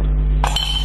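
A coin clinks into a glass during a close-up coin magic trick, one bright ringing chink partway through over a low steady hum.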